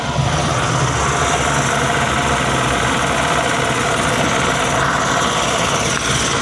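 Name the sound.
rebuilt Yamaha outboard engine starting and idling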